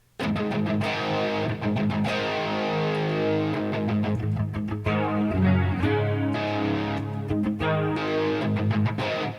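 Electric guitar played through a Line 6 Helix distortion preset, with a thick, sustained, heavily overdriven tone and steady strummed chords that ring continuously and loudly without any talking.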